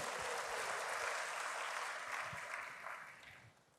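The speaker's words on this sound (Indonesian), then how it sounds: "Berikan tepuk tangan bagi Tuhan." Applause from a church congregation fills the space, a dense steady wash of many hands clapping that fades slightly toward the end, with no talk over it.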